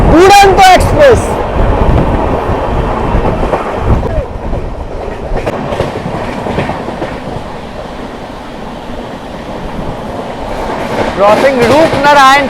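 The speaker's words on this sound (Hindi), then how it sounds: "टाटा नगर कटिहार को धूल चटाते हुए भाई ओवरटेक कर रही है हमारी दुरंतो एक्सप्रेस" The 22213 Shalimar-Patna Duronto Express runs at speed past a Tatanagar-Katihar train, a loud continuous rumble with rhythmic clickety-clack of wheels on rails, and voices speaking at the start and end.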